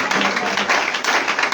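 Church congregation clapping together during a Sunday worship service, a dense, loud wash of hands throughout with a few sharper accents.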